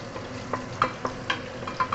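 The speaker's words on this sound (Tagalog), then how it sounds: "Fried garlic." Garlic sizzles in a pan under a low, steady frying hiss, broken by several short scraping stirs at roughly even intervals.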